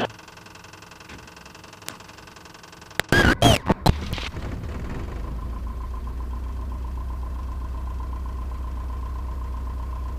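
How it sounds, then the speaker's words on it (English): A small aircraft engine cranks with a few stuttering bursts, then catches and settles into a steady, continuous droning idle. "Start the engine."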